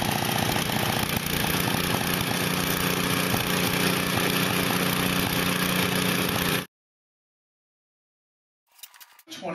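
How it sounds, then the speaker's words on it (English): A 5-horsepower snowblower engine runs loud and steady for nearly seven seconds before cutting off abruptly, leaving silence and then a brief faint noise at the end. "A 5-horsepower snowblower."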